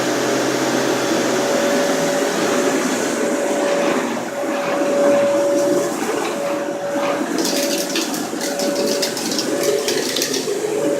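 Kenmore Elite All Floors vacuum cleaner running steadily with its brush roll on carpet, a loud continuous motor whine with a constant tonal hum and brushing hiss, with some rougher textured bursts near the end.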